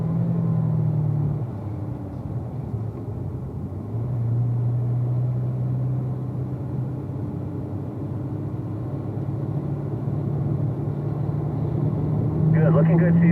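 A car engine holds a steady droning rumble while braking in fourth gear into a corner, its pitch shifting slightly as the revs change, with the interior sound continuous and close.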